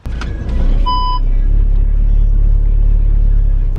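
A car driving to work on a dark early winter morning, a steady low road rumble filling the cabin after a brief chime-like beep near the start, with no talking.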